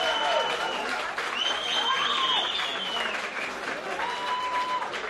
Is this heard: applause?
yes